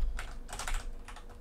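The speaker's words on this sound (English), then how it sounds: "I can't hear Wolf clicking, dude." Quick bursts of computer keyboard and mouse clicks during a Bedwars gaming session, a few clustered clattering taps close to the microphone with short pauses between them, no talking.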